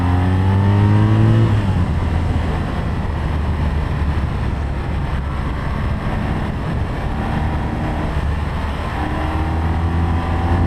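A loud BMW R nineT 2021 motorcycle engine revs up hard with rising harmonic whine as the bike accelerates, then holds a steady high-speed drone.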